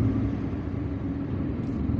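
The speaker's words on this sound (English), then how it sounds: "There's still some traffic here on this road." Road traffic in Algiers, a steady low rumble of passing vehicles heard from inside a moving car, continuous and fairly loud throughout the short stretch.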